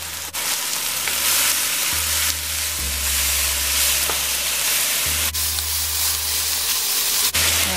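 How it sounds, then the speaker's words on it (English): Saltfish, soaked overnight and deboned, frying in a pan with a steady, dense sizzle and hiss that runs throughout, a low hum shifting underneath and a few brief clicks or stirs. "I'm gonna fry this until the saltfish is brown"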